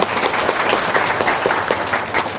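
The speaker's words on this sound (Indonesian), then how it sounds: "Tepuk tangan dong sama istri." An audience at a religious gathering applauds, a dense burst of clapping that carries on steadily and loud for a couple of seconds without talk.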